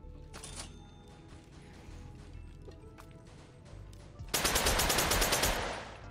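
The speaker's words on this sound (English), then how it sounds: "Give me the Tommy gun." Rapid automatic bursts from a Tommy gun in a zombie video game, a loud dense rattle starting suddenly partway through and sustained for over a second after quieter ambient game noise.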